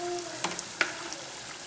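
Chicken coxinhas (croquettes) dropped into hot oil, giving a steady sizzling hiss with a couple of sharp clinks from a skimmer, heard close up and without speech.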